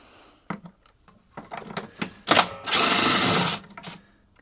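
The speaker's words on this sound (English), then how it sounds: "a 10mm goes into both of those, and we're just going to remove the bolt that's in there, one each side" Bolts on the drive cover of a Weibang mower being removed with a 10mm socket: a series of sharp metallic clicks and taps, then a loud, brief whirring burst of a power driver, close by.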